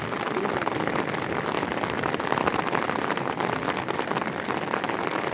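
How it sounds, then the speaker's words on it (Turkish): Heavy rain pours down steadily, a dense, constant patter drumming on surfaces throughout with no pauses. "Şiddetli bir yağmur."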